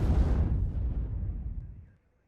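An artillery piece fires in the war strategy game WARNO, a single heavy boom that rolls out and fades to silence over about two seconds.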